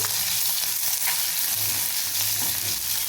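Chopped onion sautéing in a pan with bloomed cumin seeds for a dhaba-style mixed vegetable dish, a steady close sizzle with occasional stirring scrapes, no talking.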